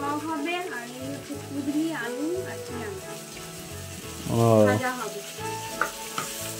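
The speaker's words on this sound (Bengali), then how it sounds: "এই দেখো উনুনে মাছ কেমন হয়ে গেছে, দেখো উনুনে রান্না করছে" Fish cooking in a pan on a clay wood-fired stove: a steady frying sizzle heard under people talking nearby.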